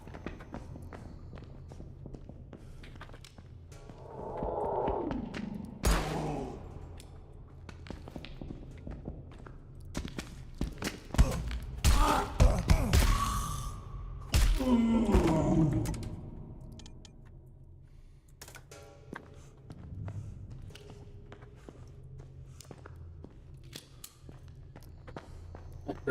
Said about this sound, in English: I heard those footsteps running at me.